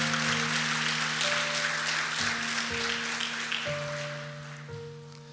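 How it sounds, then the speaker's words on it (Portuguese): Church congregation applauding during a sermon, a broad wash of clapping over sustained keyboard chords, steady at first and slowly fading. "Dê uma salva de palmas a Jesus por isso."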